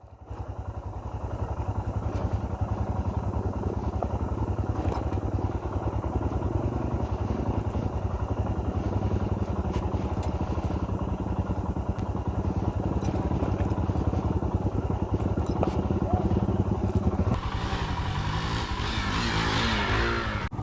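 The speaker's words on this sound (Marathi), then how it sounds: "पाण्यामध्ये मोटरसायकल चालवायची प्रॅक्टिस केली" A motorcycle engine drones steadily at close range for a long stretch as it rides a trail, ending in a burst of splashing, hissing noise as it rides through water.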